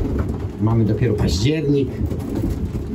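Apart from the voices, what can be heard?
pigeons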